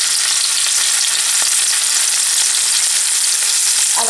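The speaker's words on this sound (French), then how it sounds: "Alors là, dans une huile chaude, je vais procéder à la friture de les sardines." Sardines frying in hot oil, a loud, dense and continuous crackling sizzle with fine popping bursts and no voices.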